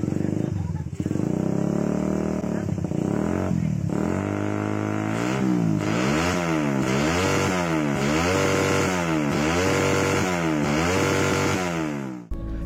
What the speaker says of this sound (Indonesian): suara knalpot racing di motor ini benar-benar beda banget,